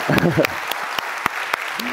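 Audience applause for a dancer at an honorary guest appearance, scattered claps ringing out between spoken words, with a voice heard over the first half and sparse, separated hand claps following.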